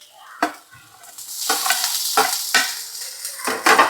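Tomatoes hit a pan of sautéing shallots in a series of loud, close bursts of sizzling and stirring scrapes, each surge flaring and then settling into a steady fry.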